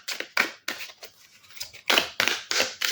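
An oracle card deck is shuffled by hand in a run of crisp, riffling bursts, some quick and some drawn out, close up with no talking.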